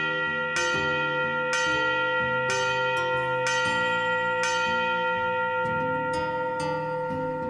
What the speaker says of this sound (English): The station bell sounds the box, while the Gamewell register punches it out.